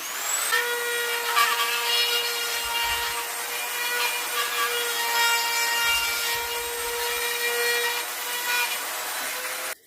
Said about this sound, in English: the inside corner of the mouth, I like to dremel that out a little bit more